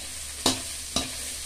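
Two sharp scraping stirs cut through a soft sizzle as sautéed ingredients for a fresh corn soup are turned in a pot, close and distinct, with no talk.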